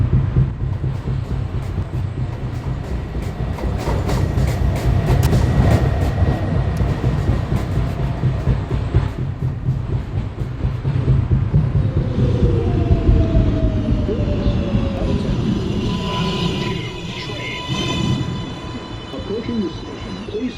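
An R142A subway train on the New York 1 line runs loudly, with continuous rumbling and rattling wheel noise, a whining motor tone rising later, and occasional squealing.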